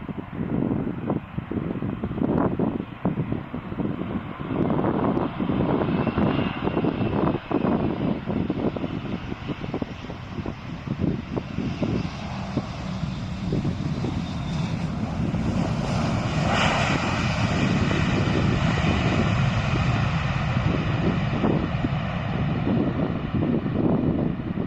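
Boeing 787 airliner landing on Amsterdam's Polderbaan runway, a loud, continuous roar of engine and rushing air that persists throughout, gusting with wind noise on the microphone, heard close and without talking.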